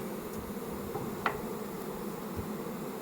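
A steady, low buzzing drone of many bees fills the air continuously, with one brief, sharper buzz passing close by.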